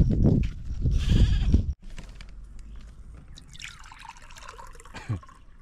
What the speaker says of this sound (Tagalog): Ano yung mga kambing natin, hindi na kumakain.